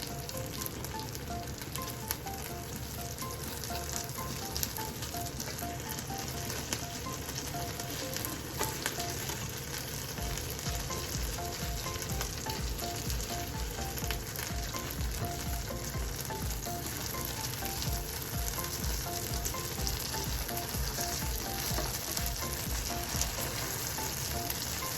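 Eggs fry slowly in a pan turned down to low heat for a spicy garlic bread breakfast sandwich, giving a steady, close, even sizzle and crackle that runs unbroken throughout with no voices.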